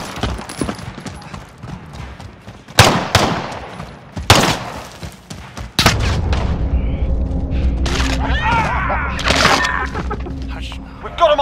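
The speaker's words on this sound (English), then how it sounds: "Gunfire." Loud booming gunshots ring out one at a time, then a dense, continuous barrage of Call of Duty: Modern Warfare gunfire and explosions follows.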